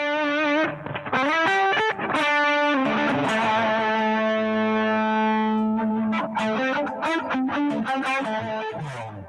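Electric guitar with humbucker pickups played through a boutique overdrive pedal with reverb: thick, sustained distorted chords and notes with a shimmering tail, loud and close, no voices.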